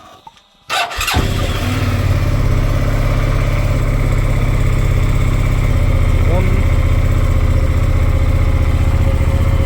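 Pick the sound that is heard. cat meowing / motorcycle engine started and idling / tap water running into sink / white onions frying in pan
motorcycle engine started and idling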